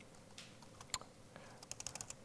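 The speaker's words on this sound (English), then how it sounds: "let's start by typing in 200" Quiet typing on a computer keyboard while working in Python, a handful of scattered key clicks followed by a quick run of taps near the end over low room hiss.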